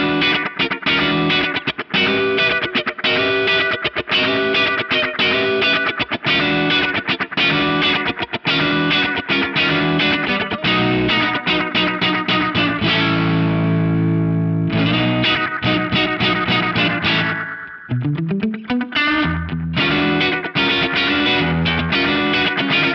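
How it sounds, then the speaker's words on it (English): An electric guitar plays through a JAM Pedals Delay Llama analog delay set for short repeats, giving a springy, reverb-like wash. Loud, dense chords and notes ring out with smeared echoes and a swooping pitch-bend passage near the end, with no talking. "you can almost get like a kind of springy reverb sound out of it"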